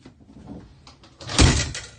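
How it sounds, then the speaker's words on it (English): Pocket door in a tiny house bathroom slides along its track, with faint rolling and scraping building to a louder thud-like push near the end, no talking. "And these are kind of some pocket doors here"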